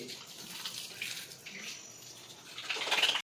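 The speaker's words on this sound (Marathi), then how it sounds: "पाणी टाकले मी" Water is poured for hand washing, splashing steadily nearby, swelling louder near the end before stopping abruptly.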